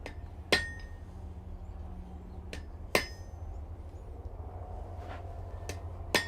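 Hammer strikes on hot metal over a hardy tool in a smithy, heard as a few sharp, ringing clanks spaced a couple of seconds apart, close and clear over a low steady background hum.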